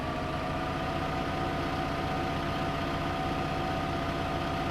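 A tractor with a front hitch idles in Farming Simulator 15, giving a steady, loud, unbroken engine drone with a low rumble and a faint tonal whine.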